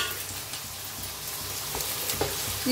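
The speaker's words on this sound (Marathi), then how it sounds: "मस्त असं बटाटो बी आपलं भाजायला लागले" Potatoes frying in oil in a pan, a steady close sizzle and crackle with occasional light stirring, continuous throughout.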